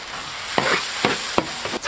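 Yellow lantern chili sauce, minced garlic and oyster sauce stir-fried in hot oil for a giant crab dish, a loud steady sizzle with a few quick scraping stirs, close up and without voices.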